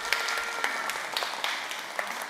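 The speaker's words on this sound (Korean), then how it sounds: "우리 수아에게 박수 한번 쳐주세요." A church congregation applauds for a young child during a Sunday service, with steady, dense clapping from many hands throughout and a slightly reverberant room sound.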